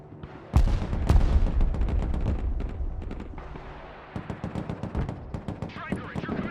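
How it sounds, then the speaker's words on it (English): Rapid gunfire and heavy explosions crash around a combat vehicle in the video game Broken Arrow, dense, loud and continuous, with bursts of automatic fire in the latter half. "Combat vehicle under fire!"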